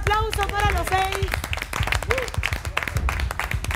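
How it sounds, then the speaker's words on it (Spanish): Applause and clapping break out for six contestants on a cooking game show set in a restaurant, with loud voices and cheering over the claps. "Un aplauso para los 6."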